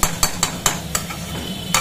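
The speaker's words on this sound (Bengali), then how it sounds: "আমার আলু পেঁয়াজটা ভাজা ভাজা হয়ে গেছে।" Potatoes and onions frying in a pan, sharp rhythmic scrapes of a spatula stirring every fraction of a second over a soft sizzle, close and fairly loud.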